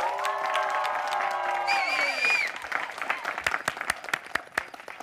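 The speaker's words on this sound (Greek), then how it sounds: "ένα μεγάλο χειροκρότημα για τη Βάνα, το κορίτσι μας, που σήμερα κλείνει τα 21" Applause and cheering at a 21st birthday party for Vana, a crowd clapping and whooping that rises as sustained tones fade out, with scattered sharp claps toward the end.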